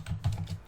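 Several quick keyboard keystrokes tapped out in an irregular burst, close and fairly quiet, with no voices.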